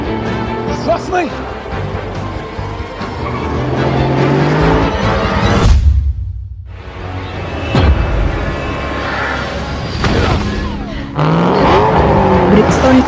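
A movie chase with cars and a truck racing, engines roaring and tires squealing loudly, with a brief near-silent gap in the middle, under dramatic soundtrack and voices.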